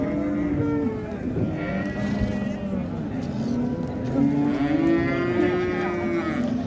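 Cows and calves moo repeatedly at a busy livestock market in Karshi, with several long, overlapping lowing calls against a steady crowd murmur and voices in the background.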